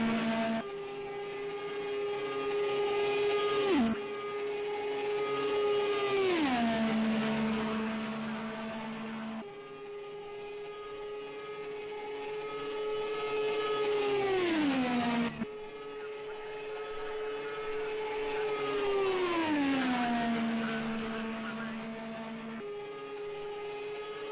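An Indy race car on a qualifying warm-up lap at the Indianapolis 500 pole day revs hard in repeated passes, each high-pitched engine whine rising and then sweeping down as the car goes by, loud and steady with no talk.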